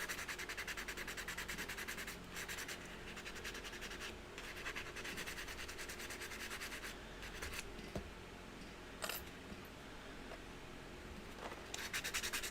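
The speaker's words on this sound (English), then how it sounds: "And so I'm just going to buff each one." Metal beads are rubbed with a buffing block in quiet, close scratchy strokes, a soft continuous rasping with small bursts of louder friction and brief pauses.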